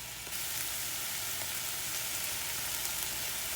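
Diced purple onions frying and caramelizing with beef in a pot for beef stew, a steady close hiss of sizzling fat that stays even and continuous throughout, with no talking.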